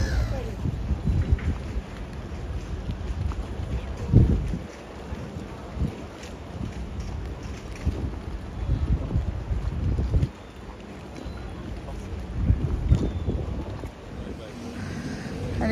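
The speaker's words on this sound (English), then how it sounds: "you can hear the bustling of the Grand Canal" Boat traffic and lapping water on Venice's Grand Canal during high water, a busy wash of engine rumble and splashing with gusting wind buffeting the microphone, rising and falling in waves over about sixteen seconds.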